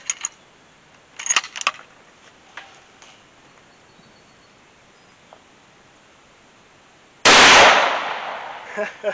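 A single .308 rifle shot firing a 110-grain V-Max round at a head of cabbage cracks loud and sharp after a stretch of quiet with faint ticks, its blast decaying over a second or two.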